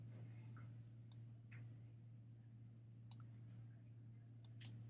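A computer mouse gives a few sparse, faint clicks at irregular intervals over a low steady hum.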